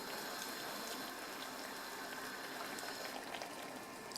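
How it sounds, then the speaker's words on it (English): Dandelion greens boil in salted water in a pot, a faint, steady bubbling and hissing simmer with small pops scattered throughout, no voices. "when the water starts to boil, add our dandelion"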